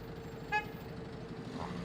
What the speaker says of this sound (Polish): I tylko trąbią na siebie.